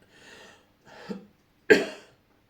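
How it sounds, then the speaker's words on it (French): Three chest-racking coughs in a row, spaced apart, the last one the loudest and harshest, close to the microphone with quiet between them. "ça m'arrache la poitrine quand je tousse"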